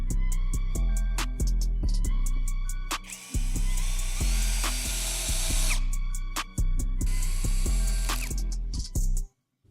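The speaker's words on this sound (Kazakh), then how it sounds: "2 миллиметр шуруппен қатырамыз." A power screwdriver drives 2 mm screws into a cabinet door lock, with short repeated whirring bursts and sharp ratcheting clicks between longer runs, loud and close with no speech.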